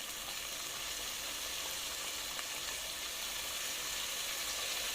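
Lentils hitting a hot pot while making koshari, a loud steady sizzle and hiss of frying that runs unbroken and close throughout, with no voices.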